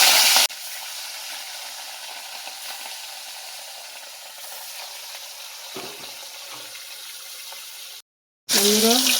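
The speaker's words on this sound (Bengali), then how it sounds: "একইভাবে ওরকম করে এই মাছগুলো ভেজে নেব।" Fish frying in hot oil in a home kitchen, a steady broadband sizzle that holds for several seconds, briefly cut off, then returning with a faint voice over it.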